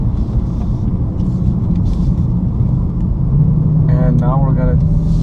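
The twin-turbo engine of a BMW M4 rumbles steadily with a deep low drone throughout, close and loud, while someone speaks briefly near the end.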